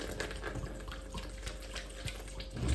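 Apple juice poured through cheesecloth, a faint, soft trickle and splash of liquid, steady and brief with no talk.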